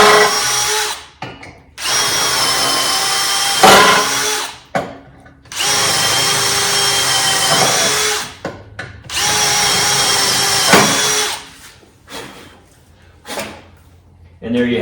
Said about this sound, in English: what I'm going to do here is take my drill, drill the other remaining holes